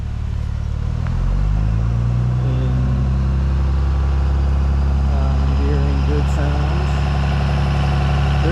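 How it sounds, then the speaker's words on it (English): A large engine on a machine half-buried in hurricane debris idles with a loud, deep, steady rumble, close by. A faint whine rises and falls over it, and someone talks under the noise. "The engine just fired up."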